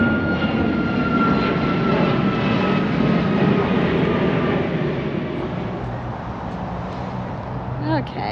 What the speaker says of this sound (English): you can see the plane coming in